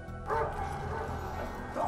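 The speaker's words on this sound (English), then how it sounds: "Damn, that puppy needs training." A puppy gives a couple of short, high yips a moment apart, heard through a steady background of other sound.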